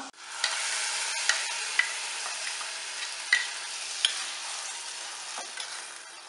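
Steady frying sizzle of ground spice paste in a pan for chapati kurma, with occasional scraping stirs and small clinks, continuous and close, with no voices.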